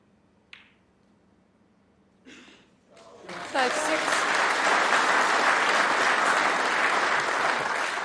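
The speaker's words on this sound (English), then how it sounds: "Deserved applause." Audience at a professional snooker match breaking into applause after a faint click and shuffling, swelling to sustained clapping that fills the hall for several seconds.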